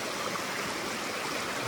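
A mountain stream at a trail water crossing on the Appalachian Trail near Killington Peak, a steady, close, full rush of flowing water with no breaks.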